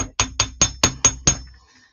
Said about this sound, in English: I'm going to hammer it briefly.